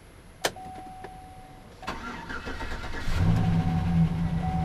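Engine of a 2007-2011 GMC Sierra 1500 pickup truck cranks and catches: a quiet cabin with a sharp key click, then a short cranking burst into a steady low idle that grows louder and holds.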